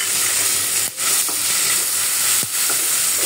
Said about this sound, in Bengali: লবণ আর একটু হলুদ দিয়ে আমি এটা আগে একটু ভেজে নিব।